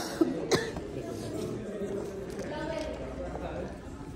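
A person with a lingering cough and sore throat coughs twice in quick succession near the start, in a hotel lobby with steady background chatter and room noise.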